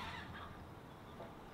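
Goose honks from a domestic goose in a front yard, faint and distant in a noisy outdoor setting, a few short calls buried in steady background hiss.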